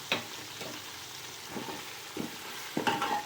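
Chicken pieces frying in a pan with tomato and green chili for a biryani, a faint steady sizzle broken by a few soft stirring scrapes and clinks, no voices.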